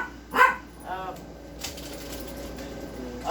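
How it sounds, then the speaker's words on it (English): A dog named Gigi barks a couple of times from just outside, wanting to come in, short muffled woofs heard at moderate distance over faint room noise, with no talking during the barks. "It's a dog wanting to come in."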